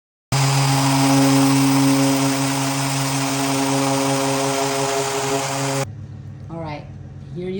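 A power sander with 80-grit paper runs loud and steady on a solid maple dining table, constant high whine, then shuts off abruptly, leaving brief quieter sounds afterward.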